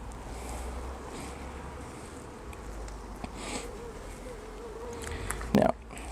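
Honey bees buzz steadily around a beekeeper's hands at an open hive in Australia, a soft continuous drone with light wind noise and a brief knock near the end.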